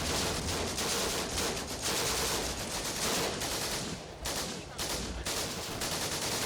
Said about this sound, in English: Oh, is there artillery barrage?